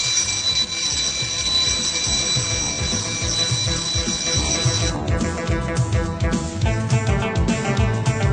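An alarm clock set for 5 am rings without pause, a loud continuous electronic tone that shifts midway into a rapid, dense buzzing pulse, filling the room with no talk over it.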